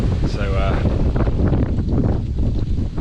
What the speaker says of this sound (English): as you can tell, it's really bloody windy